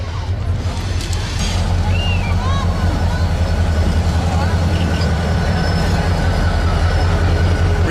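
A freight train of the kind migrants ride rolls and shunts through a Mexican goods yard, with a loud continuous rumble, rattling wagons and occasional high wheel squeals close by.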